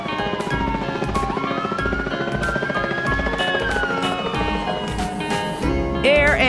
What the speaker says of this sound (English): Air ambulance.